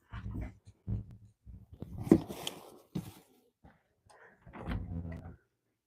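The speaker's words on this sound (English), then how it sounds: "I'm trying to see if my dog was at the door" A pet dog at a household door makes faint, scattered scratches, bumps and soft whines, with one sharper knock partway through and quiet gaps between.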